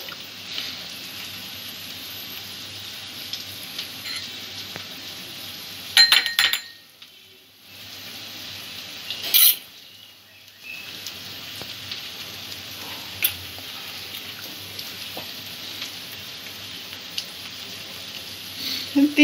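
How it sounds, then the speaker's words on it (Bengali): Vegetables sizzle steadily in a frying pan while preparing crispy noodles, a constant crackling hiss broken by occasional clinks of a utensil against the pan and brief pauses. "যতক্ষণ সবজিটা ভাজা হচ্ছে, একটা সস তৈরি করে নেব।"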